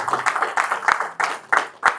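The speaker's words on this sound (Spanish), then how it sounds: "¿Le das un aplauso al Señor?" A church congregation applauds during a worship service, uneven rhythmic clapping in repeated bursts, moderately loud and close.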